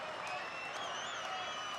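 A huge crowd at a Red Bull soapbox race in Paris cheers and applauds as a steady, distant roar beneath a commentator's voice.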